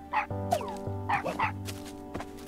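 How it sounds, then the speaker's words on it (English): Tadpole dogs in the game Time on Frog Island give a few short, cartoonish yips and bow-wow barks in quick bursts over a steady, looping musical background. "Are those dogs or tadpoles? They're tadpole dogs."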